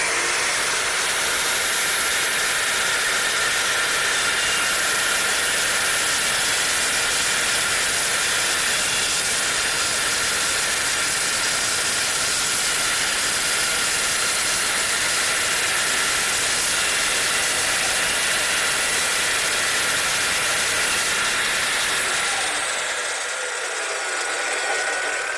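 A new circular saw cuts through a 55 gallon steel drum being made into a raised garden bed, giving a loud, steady, high-pitched grinding shriek that runs unbroken for about 22 seconds before the blade winds down and stops.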